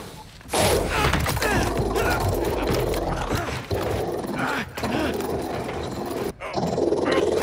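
A robot dog growls in the Spider-Man 2 video game, a rough, continuous snarl up close, mixed with thumps and crashes and occasional game dialogue.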